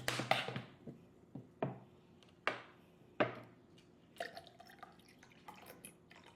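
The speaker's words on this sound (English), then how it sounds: "and then I'm gonna add water." Water is added to a sweetened syrup drink, giving a quiet series of separate drips and splashes, a few sharper plinks early on, then softer scattered drops.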